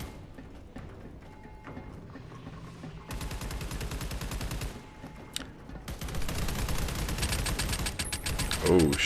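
Rapid bursts of automatic gunfire from the video game Army of Two, in two long rattling volleys with quieter mechanical clatter before and between them.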